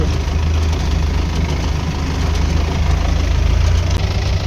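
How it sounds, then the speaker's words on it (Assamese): A heavy tractor engine chugs loudly and steadily up close while towing a stuck vehicle with a rope, with a low rhythmic throb running throughout and no voices. "ট্ৰেক্টৰটো মানে আমাক টানি লৈ গৈ আছিল"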